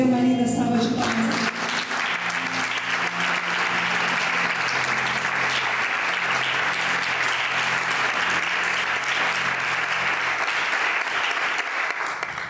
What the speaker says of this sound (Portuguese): E dê uma linda salva de palmas.